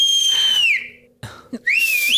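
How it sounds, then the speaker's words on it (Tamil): A person whistles two long, sliding tones, the first dipping downward and the second rising then settling, with a brief gap and a couple of soft knocks between them. "அப்போ ஆம்பளை மாதிரி விசில் அடிக்க சொல்லு."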